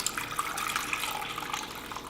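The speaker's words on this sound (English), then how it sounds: "after you have it all spiced up, you're going to add your water" Water poured into a Dutch oven holding a spiced chuck pot roast, a steady splashing stream at moderate level running for a couple of seconds with no talk.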